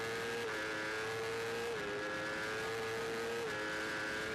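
Superbike and Superstock machines at the Kells Road Races scream past one after another, a loud sustained high-pitched engine wail with gear-change steps in pitch and no voices.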